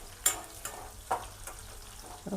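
Ingredients for onion chitranna frying in a pan, a soft steady sizzle under several sharp spoon taps and stirring scrapes against the metal, close by.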